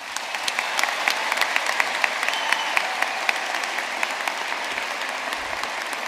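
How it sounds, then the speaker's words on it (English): A large graduation audience at Ulster University in Belfast gives sustained, dense applause for the academic staff, with scattered sharp individual claps standing out over the steady roar. "A round of applause for the Ulster University academic staff."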